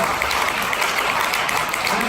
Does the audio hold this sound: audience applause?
yes